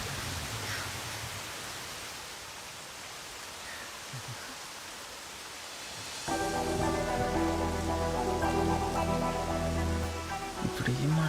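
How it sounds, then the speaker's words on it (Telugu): Steady broadband rain hiss fills the first six seconds, then continues beneath a louder stretch of music with sustained tones until the end. "వర్షం చాలా చల్లగా ఉంది కదా"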